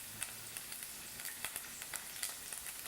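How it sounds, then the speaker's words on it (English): Quiet, steady hiss of vegetables frying in oil, with scattered soft crackles and pops throughout. "It really starts to sizzle, so be careful."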